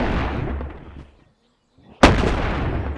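Gunfire in the video game Animal Company, a rumbling blast that fades to silence, then a sudden sharp shot followed by a booming tail.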